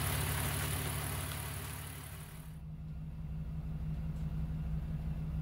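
A BMW E46 engine idles steadily after an oil flush with dimethyl sulfoxide, a constant low rumble heard close and alone, with a brief dip in level midway.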